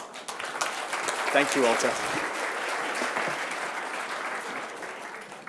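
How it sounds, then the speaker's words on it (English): An audience claps for a volunteer after a live hacking demo at a security keynote, steady applause throughout with a brief spoken thanks layered over it. "round of applause for my willing victim"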